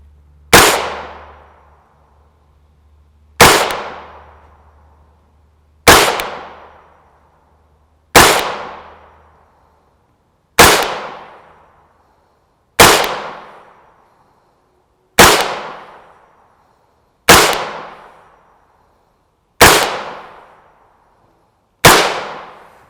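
A short-barreled 5.7x28mm radial-delay blowback rifle with a muzzle brake fires ten sharp, loud shots into a gel block, spaced about two to three seconds apart, each crack ringing out and decaying quickly with no talking.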